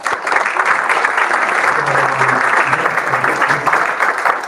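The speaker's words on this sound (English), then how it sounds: "So give a clap for Deloitte." An audience at a CityJS Athens tech conference breaks into sustained, dense applause, a close, loud wash of clapping lasting several seconds, with faint voices beneath.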